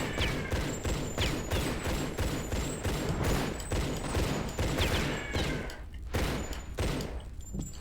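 Gunshots in a Tomb Raider custom level, with game ambience: a steady series of repeated muffled shots and thuds at a regular pace, moderately loud against constant background noise, without speech.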